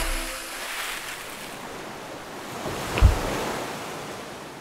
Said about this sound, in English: That's the ocean.